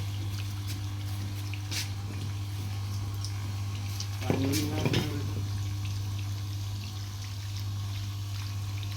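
An electric motor-driven water pump runs with a steady low hum beneath a continuous rush of flowing water, and a brief louder splashing surge comes midway.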